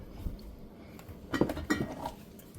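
A can of black beans tipped into a pot of chili, a few soft clinks and knocks of metal against the pot, quiet and close, with no talking.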